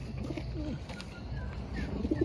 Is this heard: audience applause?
no